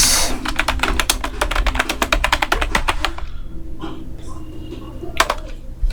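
A command is typed on a computer keyboard in a fast, dense run of close key clicks, followed by a pause and a couple of scattered final keystrokes.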